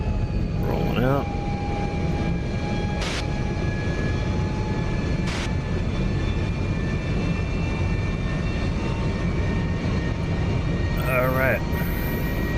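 F-104 Starfighter jet engine running at full military power in the DCS flight sim, a steady loud roar with whining tonal hum held throughout, brief chirping bursts near the start and end.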